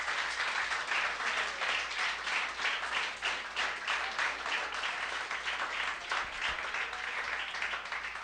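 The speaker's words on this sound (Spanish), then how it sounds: "Dele un fuerte aplauso al Señor" A church congregation, also heard on a radio broadcast, applauds loudly and continuously, a dense, steady wash of many hands clapping together with no pause.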